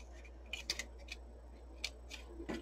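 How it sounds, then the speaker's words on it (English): Scissors snip off excess material during a heat embossing craft project, a few faint, sharp clicks scattered irregularly in a quiet room. "Cut the excess off."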